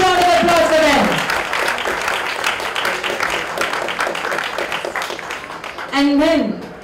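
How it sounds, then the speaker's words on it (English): Audience applause at a civil society launch event in India, a broad wash of clapping from a crowd that holds steady for several seconds, with voices over the start and the end. "A huge round of applause for them."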